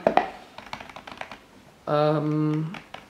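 Key presses on an Apple iPad Smart Keyboard, a shallow-travel fabric keyboard paired with a 7th-generation iPad, give a run of soft, irregular clicks near the mic. Midway the tapping is cut off by a sustained tonal hum.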